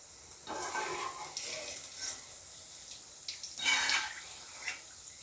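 Radish pakoda frying in hot oil, a soft steady sizzle with bubbling that swells briefly near the end, close and fairly quiet with no voices.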